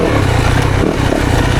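A 2024 Yamaha YZ 450FX off-road motorcycle on a woods trail, its engine loud and close, revving under crisp throttle with a rough, pulsing mechanical drone.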